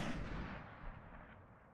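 A single sniper rifle shot in the video game Destiny, a faint, distant boom that rolls away and fades over under two seconds.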